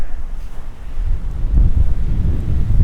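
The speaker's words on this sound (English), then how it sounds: "It's really windy out too." Strong night wind at Dobbs Plaza buffets the microphone in heavy low rumbling gusts, building in force toward the end, with a faint wash like distant surf behind it.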